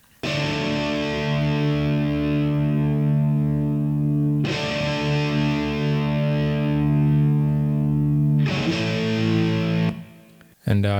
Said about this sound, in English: And here we have the distorted guitar.